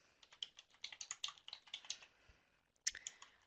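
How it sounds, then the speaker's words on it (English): Fingers type on a computer keyboard in a quick, uneven run of soft, close key clicks, a short pause, then a few more taps. "I'm just going to type this in here."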